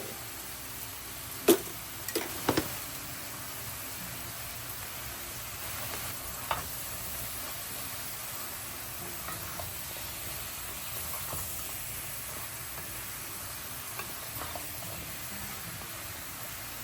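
Chopped bottle gourd sizzles in hot oil left from frying shrimp, a steady close hiss broken by a few sharp clatters of stirring near the start.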